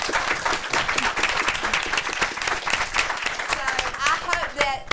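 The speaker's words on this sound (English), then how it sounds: "So we'll give them a round of applause." A room at a city commission meeting applauds an all-star girls ball team from the rec department, with dense, steady clapping from many hands throughout and voices mixed in.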